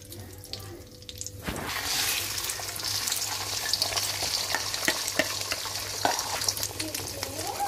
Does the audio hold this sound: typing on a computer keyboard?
no